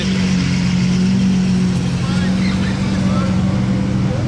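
Ford GT and other hypercars rolling through Place du Casino in Monaco, a loud continuous engine drone close by, with someone talking over it throughout.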